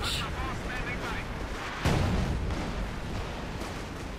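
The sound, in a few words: artillery bombardment in Company of Heroes 2 video game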